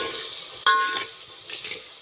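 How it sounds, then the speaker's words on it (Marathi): Whole spices and masala roast in a pan: a brief, sharp scrape of stirring and a soft dry sizzle, close by and without any voices. "हे बघा असं सगळं सामान असं व्यवस्थित भाजू द्यायचं."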